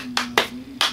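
Three sharp hand claps ring out close and distinct at an uneven pace, standing alone over a faint steady hum.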